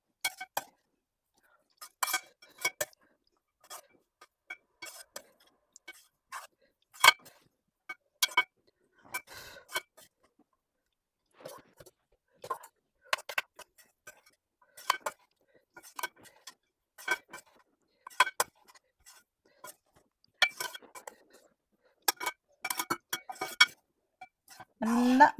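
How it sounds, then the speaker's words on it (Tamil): Mint rice being stirred and mixed in a pan, with irregular metallic clinks and scrapes of a spoon against the pan spread across the clip, fairly quiet and close. "ஒரு 1 1/2 அழகு சாதம் போட்டு நல்லா கலரிக்கலாம்"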